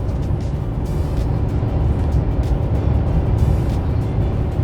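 Inside a Chevy 2500 pickup with the 6.6L L5P Duramax diesel while it tows at highway speed: a steady, dense low drone of engine and road noise that continues evenly throughout, with no voices.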